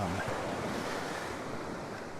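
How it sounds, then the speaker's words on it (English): Ocean waves break and wash up on Dundowran Beach at sunset, a steady loud roar of surf and whitewash with wind buffeting the microphone throughout. "the waves are big enough to get some nice whitewash"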